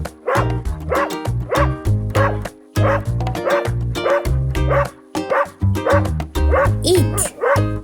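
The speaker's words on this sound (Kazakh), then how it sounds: "Ит үй жануарына жатады." A domestic dog barks and yips in repeated close, loud bursts, with whimpering whines between them and short pauses, while a voice speaks briefly over part of it.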